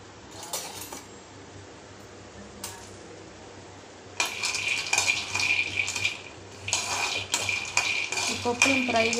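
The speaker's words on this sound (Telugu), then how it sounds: "ఈ పప్పులను ఫ్రై చేసుకున్నాం" Peanuts stirred in a pan on a stove, giving scraping, clinking metal-on-pan strokes that come in bursts and grow louder in the second half, over a low steady hum, with no talk.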